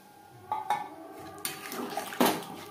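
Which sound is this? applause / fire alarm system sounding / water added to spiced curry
water added to spiced curry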